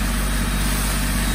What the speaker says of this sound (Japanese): トラクターで引っ張っていきながらビニールを被覆するやり方です